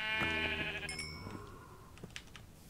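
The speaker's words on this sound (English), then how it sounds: "I have scaled down the side of a building in an effort to hunt the sheep." Sheep in the video game Minecraft bleat twice in quick succession, a loud, close wavering cry followed by a shorter one, with a few soft game clicks and thuds trailing after.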